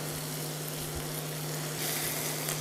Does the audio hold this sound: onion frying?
yes